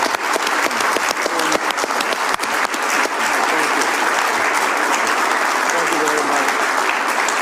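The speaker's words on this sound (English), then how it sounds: "Would you all say thank you with your applause?" A large audience at an election-results event gives dense, sustained, loud applause that carries on evenly, with scattered cheers and voices mixed into the clapping.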